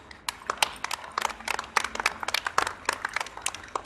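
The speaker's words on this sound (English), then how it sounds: "Give a big applause" An audience at a crowning ceremony for contestants claps in scattered bursts of varied loudness. The sharp, uneven claps fill the whole span, and nobody speaks over them.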